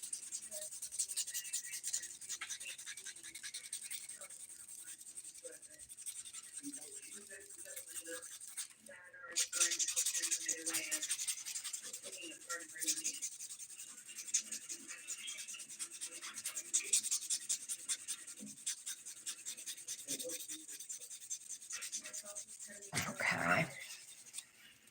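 A nail file's rough 100 grit side rasps back and forth on fingernails in continuous close scratchy strokes, quiet and steady, with a short louder burst near the end.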